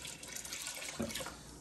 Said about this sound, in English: And I am going to pour in 1 cup of water.